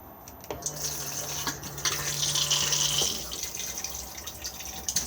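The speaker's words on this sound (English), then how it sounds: "Push to flush." A Thetford cassette toilet in an Adria 613 UT Thames Adora caravan flushes with a steady rush of running water for a few seconds, then tapers off into softer trickling.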